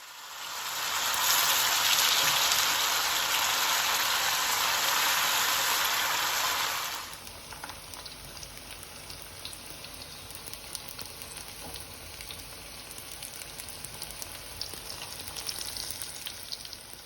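Cut pieces of boiled dumpling hiss and sizzle loudly in a frying pan for several seconds, then the noise drops to a faint, low crackle.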